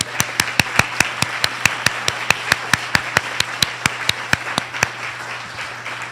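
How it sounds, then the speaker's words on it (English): Slow, even clapping at a Habitat for Humanity International Women's Day event as the staff are honoured, crisp regular claps in a steady rhythm, fairly loud and close, over a low steady hum. "I also would like my Habitat staff to please stand for a moment so we can applaud you"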